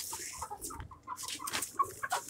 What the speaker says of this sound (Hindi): ये देखिए हमारा मुर्गा बांग दे रहा है।